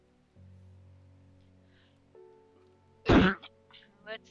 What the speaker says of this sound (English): I do have a bit of a cough